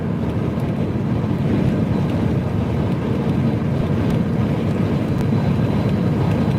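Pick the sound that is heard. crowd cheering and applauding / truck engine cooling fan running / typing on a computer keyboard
truck engine cooling fan running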